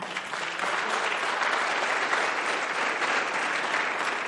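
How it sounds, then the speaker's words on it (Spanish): A church congregation applauds steadily during a sermon, dense clapping from many hands sustained throughout at a loud, even level. "Dale un aplauso al Señor."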